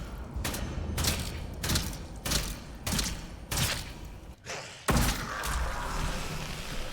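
Enemy gunfire in the video game Atomfall, a series of loud, evenly spaced booming shots about every half second, then a short pause and a heavier blast followed by a lingering rumble.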